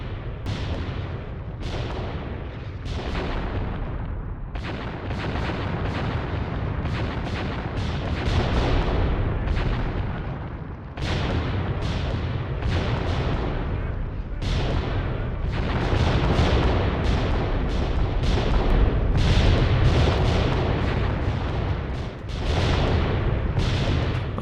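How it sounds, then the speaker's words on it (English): Mortars fire repeatedly in the war game Graviteam Tactics, a long series of deep booming shots at irregular intervals, some in quick clusters, over a constant low rumble of battle. "So we have all of our mortars firing at it"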